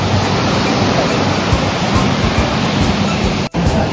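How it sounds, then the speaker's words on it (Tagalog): Big sea waves crash on a beach at Sta Ana, Cagayan, making a loud, continuous, broadband roar of surf that carries on without a break for the whole stretch. "Lakas ng ang lalaki ng alon."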